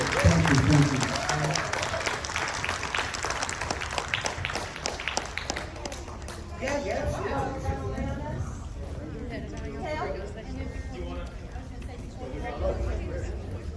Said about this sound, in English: Give a round of applause for Lloyd.